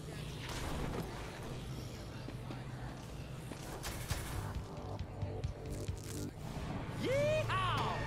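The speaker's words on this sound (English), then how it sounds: "It's firecrackers? Is that what it is?" Firecrackers going off in the video game Dead Rising 3, a scattered string of sharp pops and bangs over a dense, rumbling background, ending in a rising whistle.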